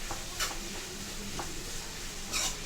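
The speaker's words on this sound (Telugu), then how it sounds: "దీనిలోని తర్వాత పచ్చిమిర్చి ముక్కలు, ఇవి కొంచెం వేగాలి." Green chilli pieces frying in a pan: a continuous close sizzle and crackle with a few brief scraping stirs of a spatula, steady throughout with no voices.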